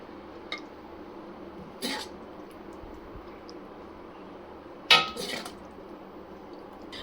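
Mutton liver (kaleji) curry is spooned from the cooking pot into a serving dish, with a few faint, widely spaced metal clinks over a quiet background and no voices.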